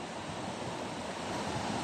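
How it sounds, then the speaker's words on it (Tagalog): Steady, broadband roar of rushing water at Tapia Falls near the Banaue Rice Terraces in the Philippines, a continuous close wash of falling water with no pauses and no voices. "naririnig ba ninyo yung rumaragasa na tubig? Yan po yung sa Tapia Falls."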